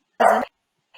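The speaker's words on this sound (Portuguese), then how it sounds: "Cachorro, desculpa." A dog gives a single short, loud bark indoors, close by, followed by silence and a faint trailing sound at the very end.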